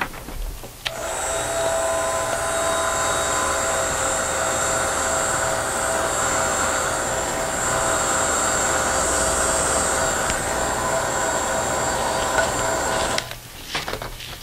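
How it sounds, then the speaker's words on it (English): A heat gun blows steadily for about twelve seconds over a craft gift basket project, a loud, even electric whine with a high whistling tone that starts and cuts off abruptly. "You can speed it up a little bit if you've got a heat gun handy."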